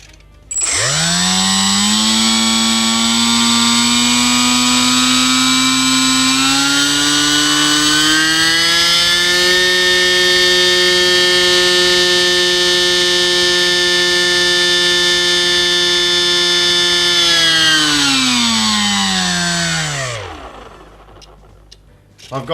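Small brushless motor of an E-flite UMX Gee Bee R2 RC plane throttling up, a loud, near whine that rises in pitch, holds steady with buzzy harmonics, then winds back down to stop.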